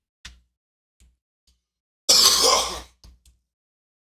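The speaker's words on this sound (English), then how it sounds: "I had to cough, sorry." A single harsh cough bursts out loud and close for under a second, with a few faint clicks and breaths before and after it.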